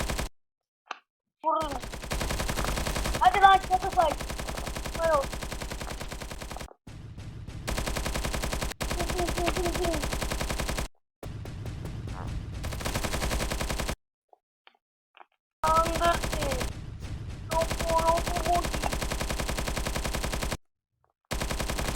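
Automatic gunfire in a war video game, bursts of rapid machine-gun shots broken by short silent gaps, with game sound effects between bursts, moderately loud.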